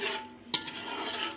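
Masala being stirred and mixed in a pot with a utensil, soft continuous scraping and clinking with one sharper metallic knock partway through, close and fairly quiet, no talking.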